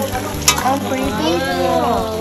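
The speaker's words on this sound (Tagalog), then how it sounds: "si Teacher Tess, dumayo sa farm para magluto ng talong" Eggplant frying in a pan at a farm, a steady close sizzle and crackle with a brief loud pop near the start, while a person's voice runs over it.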